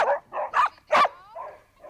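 A Samoyed, the fluffy white spitz breed, gives a close series of about five sharp barks and yips in an uneven rhythm, loud and alone with no voices.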